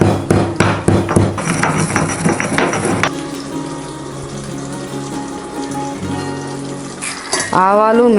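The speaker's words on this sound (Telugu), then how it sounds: "1/2 టీ స్పూన్ మెంతులు, 1/2 టీ స్పూన్ ఆవాలు వేసి కొంచెం వేగాక పొడి దంచుకోవాలి." Roasted fenugreek and mustard seeds being pounded into powder for a Nellore-style fish curry, a rapid series of sharp thuds at the start, then a steady background hum and a whistling tone near the end.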